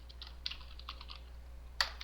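Quiet, scattered keystrokes on a computer keyboard are followed by one sharper, louder key press near the end, heard up close over a low steady hum.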